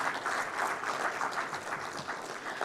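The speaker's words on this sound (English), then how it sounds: "Can we have a big round of applause for her?" A big round of audience applause at a finance and accounting forum, continuous dense clapping from a hall full of people, steady and somewhat distant for the whole stretch, with no voices over it.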